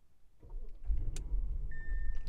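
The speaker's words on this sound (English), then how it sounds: "And then when you turn the car on" A car is switched on: a click and rising low rumble as the engine catches, then a steady idle with a brief electronic beep near the end.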